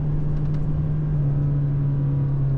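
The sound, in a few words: 2024 Toyota HiLux GR Sport engine rev hang while driving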